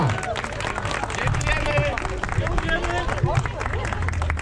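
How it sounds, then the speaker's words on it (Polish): A crowd at a wreck race awards ceremony applauds a racing team with close, dense clapping, while voices and crowd chatter run underneath throughout. "Wielkie brawa dla Torzymia!"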